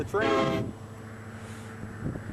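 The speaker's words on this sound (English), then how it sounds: "The train." A train passes a roadside in North Dakota and gives one loud horn blast of about half a second, then a low, steady rumble continues under faint background noise.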